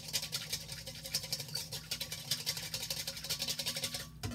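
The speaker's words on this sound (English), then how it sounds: "So you're going to be whisking and a little bit, and you want to emulsify." Whisk beating vinaigrette in a bowl, a fast steady rhythmic scraping and swishing, faint but close, with no one speaking.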